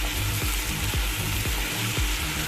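Elephant foot yam sautés with spices in a pan, a steady sizzle overlaid by regular spatula strokes roughly twice a second, close and unaccompanied by speech.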